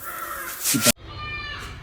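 A crow caws loudly, a harsh call that cuts off abruptly, followed by quieter background noise and faint voices.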